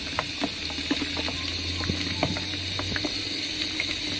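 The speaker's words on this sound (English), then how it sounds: "You gotta fill it up quite a bit so you can actually see the butane bubbling on top of the hot water." Liquid butane bubbling on top of hot water, heard as a steady close hiss with a dense, fizzing bubbling and scattered small pops throughout.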